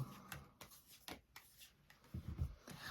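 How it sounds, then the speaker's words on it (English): A deck of tarot cards given a quick card-style shuffle, with soft, close riffling and flicking strokes in a short run of bursts. "I'm going to do one like, you know, card style shuffle there."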